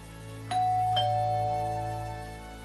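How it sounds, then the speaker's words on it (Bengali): A two-tone ding-dong doorbell chimes once, close and clear, its tone ringing out and slowly fading over a steady low hum. "কলিং বেল বাজতেই কাকিমা দরজা খুললেন"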